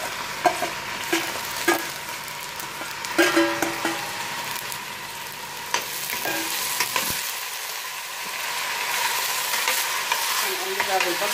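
Frozen green beans tossed with onions in a frying pan, with repeated spatula scrapes and knocks over a continuous sizzle that gradually settles toward the end, no one speaking.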